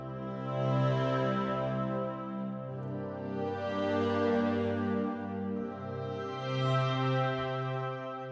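Soundiron Symphony Series woodwind ensemble playing sustained, layered chords through a huge cathedral reverb, three swelling phrases with long blooming tails, moderately loud and alone with no talk.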